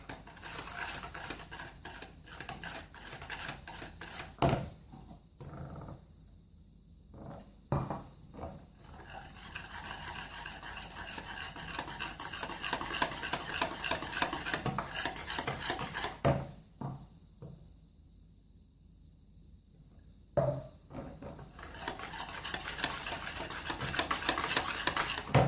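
A whisk or spoon works clafoutis batter for a raspberry clafoutis as milk is added, with continuous scraping and stirring against the bowl broken by brief pauses and occasional knocks, close and steady with no talking.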